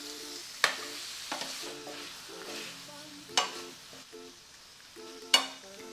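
Prawns sizzle and fry in a pan for an okra curry under a soft, steady crackle. Three sharp scraping stirs of a spatula stand out, with lighter clinks between them.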